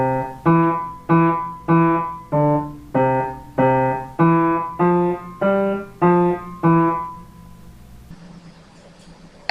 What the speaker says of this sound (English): This is what music sounds like played without legato.